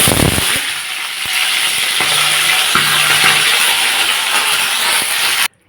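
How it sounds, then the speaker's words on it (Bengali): Fish heads fry in hot oil for a spinach dish, giving a steady, loud broadband sizzle with occasional sharp pops and clicks. The sound cuts off abruptly near the end. "বন্ধুরা মাছের মাথাটা আমার ভাজা হয়ে গেছে"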